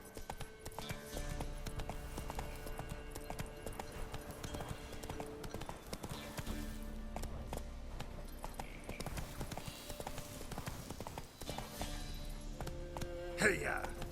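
Roach, the horse in The Witcher 3 video game, gallops with a steady, close clip-clop of hoofbeats that runs the whole time, while voices talk over the hooves.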